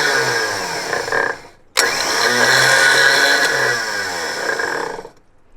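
A rebuilt WARN winch powered from a Jeep battery whirs with a steady electric motor drone. It runs briefly, cuts out, restarts for several seconds and then winds down, loud and close.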